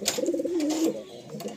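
Andhra pigeon cooing inside a loft, a close, steady run of soft pulsing coos lasting about a second, then quieter rustling.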